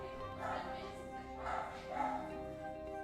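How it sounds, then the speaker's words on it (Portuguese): Several dogs yip and bark in short bursts indoors, arriving as family visitors come in, with overlapping barks recurring about every half second to second over a steady background hum. "deixa os cachorros parar de latir"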